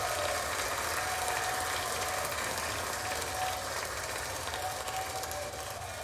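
Clap sound effect played on a futures trading livestream, a steady dense rattle of synthetic applause at low volume with no talk over it.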